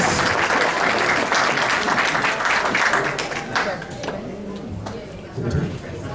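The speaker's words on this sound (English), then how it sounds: "Let's give her a round of applause." Crowd applause at a Ranger Stop & Pop competition event in Atlanta, a burst of clapping that fades after a few seconds, with voices talking beneath it.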